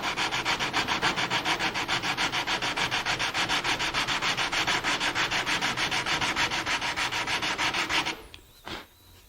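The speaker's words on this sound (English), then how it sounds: "I fashioned a sanding block out of a piece of plywood with adhesive back sandpaper" A plywood sanding block faced with adhesive-backed sandpaper is worked back and forth over a long wooden board. The steady, rhythmic rasping strokes come close and clear, about three or four per second, then stop abruptly near the end.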